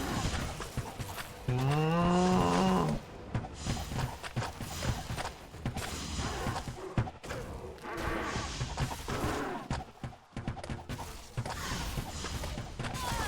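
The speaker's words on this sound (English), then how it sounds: "Cow." A cow in the Grim Dawn game lets out a loud, drawn-out moo with a rising pitch, followed by clopping hooves and scattered clatter, with no talk over it.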